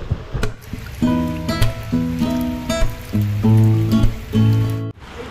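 Steady rain patters on a surface outdoors, holding an even hiss throughout while a tonal, music-like hum pulses over it.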